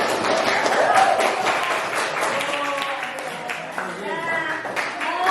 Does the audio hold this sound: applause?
yes